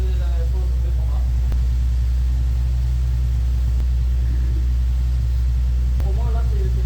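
A Nissan 350Z engine running on six cylinders after a rocker cover gasket change, a loud, steady low idling rumble close by, with occasional brief talk over it.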